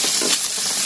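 A brief, close, steady hiss of broth sizzling and bubbling in the soup moat of a Thai mookata pork grill pot.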